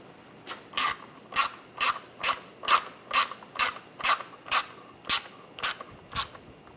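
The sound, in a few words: tightening a screw on a BMW water pump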